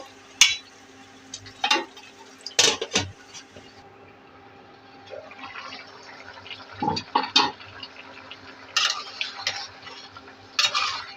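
Bottle gourd and snakehead fish curry stirred in a pot, with intermittent metal scrapes and clinks of the spoon against the rim over a soft simmer, close, in irregular bursts, without speech.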